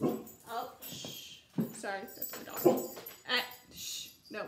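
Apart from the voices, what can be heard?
dog barking and whimpering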